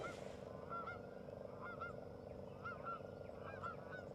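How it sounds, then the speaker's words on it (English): Geese on the Tennessee River honk repeatedly in short nasal calls at middle distance, spread through the stretch over a constant low aerator drone. "Between the aerator noise, Rover, and the geese, I've lost the entire audience."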